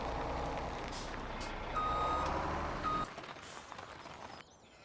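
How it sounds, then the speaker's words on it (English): A Mack truck in Farming Simulator 17 reverses, its backup alarm beeping repeatedly over a low diesel idle before the engine drone drops away and the beeping thins out near the end. "Our Mack truck, there it is."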